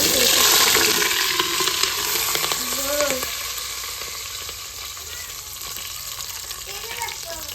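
Bagara spices and chopped vegetables fry in hot oil for pulao, a loud steady sizzle with stirring scrapes that eases off slightly as it goes on.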